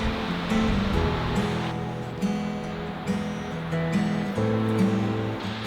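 Stormy sea waves roll in on the coast at Port Townsend, Washington, making a loud, steady broadband roar with surging swells over a low hum.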